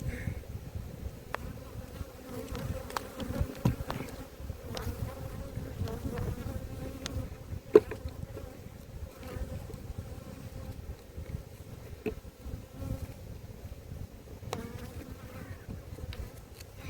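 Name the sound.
honey bees buzzing in a hive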